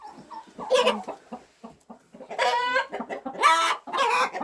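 Hen in a farmyard coop, agitated and pecking as her egg is taken, clucks repeatedly in loud, close bursts of squawking calls with short gaps between them.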